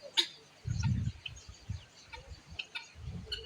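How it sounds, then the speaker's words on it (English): Guinea fowl, birds that live wild in the forest in other places, give loud, rough low calls in a couple of bursts with faint chirps between them. "Yeah, guinea fowl."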